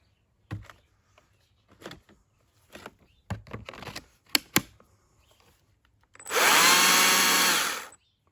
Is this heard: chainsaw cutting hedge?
yes